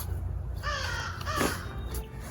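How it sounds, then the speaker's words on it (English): A crow caws in a garden on Cape Cod, a few harsh calls at moderate distance over outdoor background noise, with no talking. "Did you hear that crow?"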